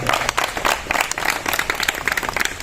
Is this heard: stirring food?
no